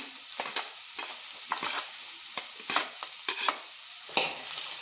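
Green peas sautéing in a pan for rava upma, a soft sizzle under a series of scraping stirs that come every half second or so, with no voices.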